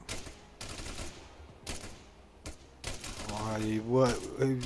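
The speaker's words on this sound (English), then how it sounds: "Who's shooting where?" Rapid bursts of automatic gunfire from the ARMA 3 military shooter ring out in several short, sharp volleys at mid distance, followed by someone talking over the tail of the shooting.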